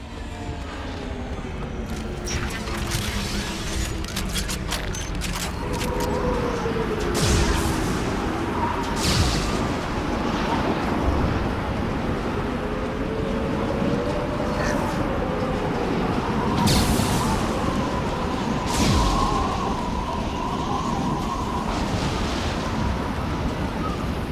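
Ship engines rumble through a storm in Mass Effect 2, a continuous roaring wash of wind and low drone with occasional booming thuds and a wavering tone over it, steady and fairly loud.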